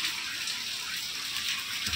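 Rain falls steadily as an even, continuous hiss with no breaks or talking.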